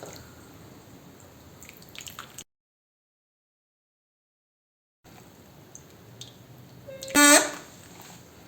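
Water is poured and dripped onto a small karst landscape model to act as rain, making soft wet patters and squelches. A sudden stretch of silence is followed by a louder splashing burst near the end.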